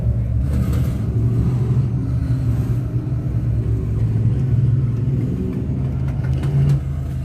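Race car engines at a speedway during a Sportsman division event, including the number 111 car, giving a steady loud rumble with rising revs, constant from start to finish.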